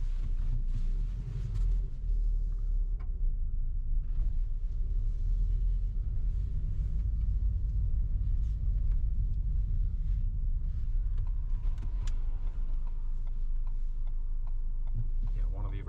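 A car engine rumbles low and steady at idle while the driver works through a many-point turn in a cul-de-sac, a continuous close drone with faint clicks and knocks scattered over it, and someone talking at times.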